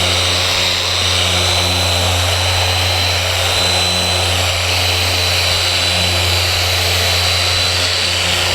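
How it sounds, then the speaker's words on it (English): A car polisher buffs automotive paint with a constant droning whine and a low steady hum, loud and close, running without pause throughout. "Turn the polisher off, let the pad slow down before I lift it off."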